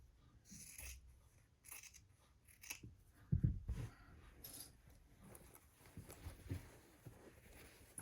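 Scissors trimming sewn fabric for a backpack, a series of faint close snips and crisp cuts spread across the stretch with light rustling of the material between them.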